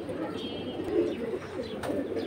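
A female pigeon coos softly in low, throaty rolling murmurs, close but quiet, with a few faint chirps and light background noise.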